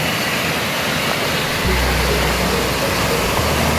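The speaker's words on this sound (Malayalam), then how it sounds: "അതാണ് നമ്മുടെ സീതമ്മക്കുണ്ട് വെള്ളച്ചാട്ടം എന്ന് പറയുന്നത്" Seethammakundu waterfall in Wayanad, a dense, continuous roar of rushing water that fills the air at high volume, with a low rumble growing stronger partway through.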